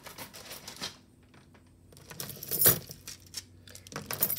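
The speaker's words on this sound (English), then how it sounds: "Uh-oh, I hear keys." A box of jewelry found at the roadside is rummaged through and keys jangle in it, with bright metallic clinks coming in bursts, loudest midway, between quieter stretches of handling.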